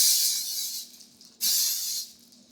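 Cooking spray from an aerosol can misted onto metal cream horn molds, heard as two close hissing bursts, the first about a second long and the second shorter after a brief pause.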